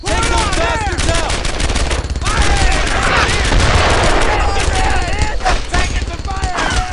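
Heavy rapid gunfire from World War II weapons in the video game Brothers in Arms: Earned in Blood, dense overlapping bursts of machine-gun and rifle shots pounding continuously while soldiers shout over the din.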